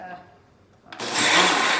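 A blender starts up on homemade salsa, cutting in abruptly after a moment of quiet and settling into a loud, steady whir, with a voice speaking just before it starts.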